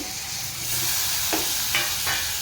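Cleaned rawas, Indian salmon, is added to spiced oil in a pan and fries with a continuous loud sizzle, which grows a little louder partway through, with a few brief crackles.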